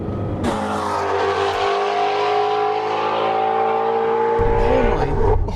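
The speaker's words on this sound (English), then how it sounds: "The engine sounds unbelievable." Ford Mustang Shelby GT350 V8 on a race track, loud and close, holding a steady high-revving engine note with harmonic tones that climb through the pull, with a brief gear-change break near the end.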